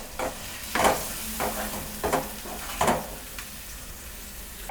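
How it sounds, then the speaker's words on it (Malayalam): Tamarind water poured into a pan of sautéed onions, giving a few short sizzling bursts and stirring scrapes at irregular intervals over a quiet background. "പുളി വെള്ളം കൂടെ അതിനകത്തോട്ട് ഒഴിച്ചു കൊടുക്കാം."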